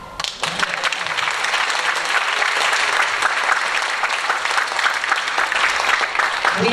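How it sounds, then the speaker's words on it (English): Audience at a high school Tri-M music concert applauding a student honored for the All National Festival, a loud, sustained wash of many hands clapping, starting abruptly and continuing without a break. "You can clap."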